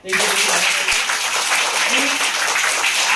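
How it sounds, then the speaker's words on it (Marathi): A school audience at a small forest school near Bhiwandi breaks into loud, dense applause that fills the whole moment, steady and close from start to finish. "एका जोरदार टाळ्या"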